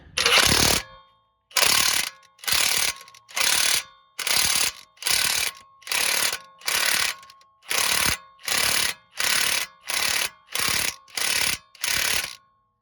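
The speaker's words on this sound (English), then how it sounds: "we'll grab our impact gun, which still has our socket on it" Impact gun tightening an axle bolt on a 2010 Buick Enclave during a passenger-side axle replacement, firing in about fourteen loud, evenly spaced bursts with short silent gaps, each burst a harsh rattling hammer close to the mic.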